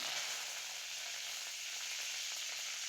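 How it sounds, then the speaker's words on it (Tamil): Mustard seeds and curry leaves in hot oil give a faint, even crackling hiss, a dense spluttering texture at low level with no distinct pops or voices. "கடுகு நல்லா பொரிஞ்சு வரட்டும்"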